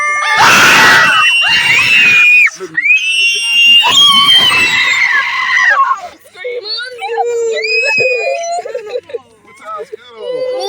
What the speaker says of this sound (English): Quit screaming.